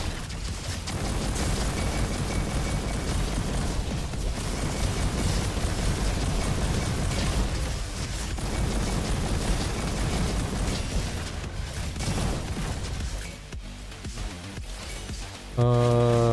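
Continuous heavy blasts from a bolter weapon tearing down a sniper tower in a shooter game, a dense, loud rumbling barrage that dips briefly before a final hard burst.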